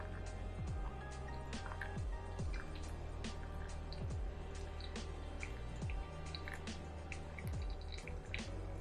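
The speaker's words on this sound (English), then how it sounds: "So first we will pour up to 150 grams in a circular motion." Hot water poured in a thin, steady stream over coffee grounds in a pour-over brewer, circling slowly to reach 150 grams; a soft continuous trickle with faint drips throughout, close by and without talk.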